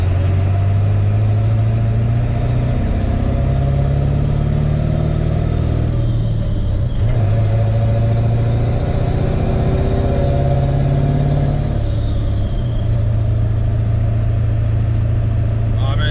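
A Ford 7.3 diesel OBS truck with a stage 1 tune drives down the road, its engine a loud, deep, continuous drone that rises and falls as it accelerates and shifts, heard from close range.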